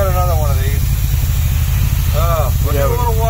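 A van's engine idles with a steady, loud low rumble throughout while people talk over it.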